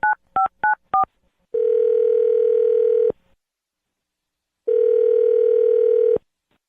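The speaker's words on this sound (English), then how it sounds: "I'm going to dial the phone number." A telephone being dialed: four quick DTMF keypad tones in a row, then two long steady ringback tones separated by a pause, clear and close with no talking.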